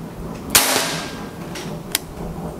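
A single sharp crack of a wooden-stocked PCP air rifle shot, followed a moment later by a fainter snap, with quiet ambience around.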